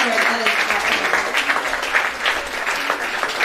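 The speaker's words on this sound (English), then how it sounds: "another round of applause for all of the amazing work" An audience at the Art and Soul 2019 speeches and performances claps in a dense, sustained round of applause, steady and loud throughout, with a voice faintly mixed in.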